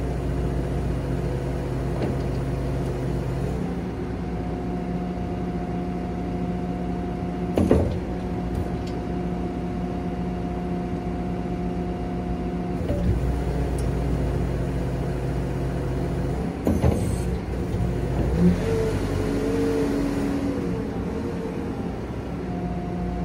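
A Claas Scorpion 741 telehandler's engine drones steadily and close up with a constant low hum as it works to pick up a spreader from a trailer, broken by a few brief clunks and rattles.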